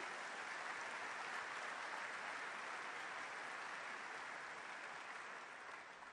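A large crowd of about 30,000 at an Army association annual meeting opening ceremony applauds, a steady, even roar of distant clapping that barely changes and fades slightly at the close.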